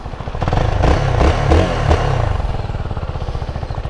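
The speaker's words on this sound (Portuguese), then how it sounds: "O ronco do motor é legal pra caramba." Engine of a Zontes V310 motorcycle with twin rear shock absorbers and custom styling roars steadily while ridden, a loud, close, throbbing rumble with rapid pulsing and some wind and clatter.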